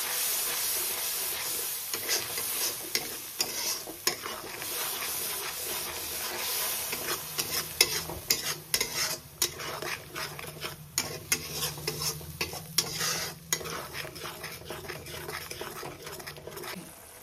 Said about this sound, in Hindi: मसला को तेल सहित हमें भल भाव में मिक्स करना।